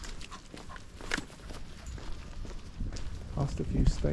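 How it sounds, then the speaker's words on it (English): Horses walk past stables on a scenic walk in Jersey, hooves clopping in irregular near footfalls that grow louder toward the end, mixed with outdoor noise and a voice talking. "Horses."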